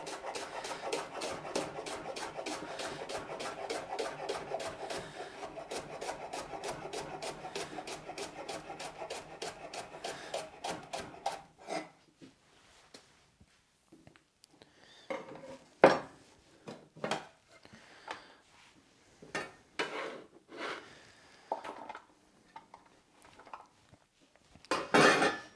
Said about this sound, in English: And I'll just cut that into little rings for my stir fry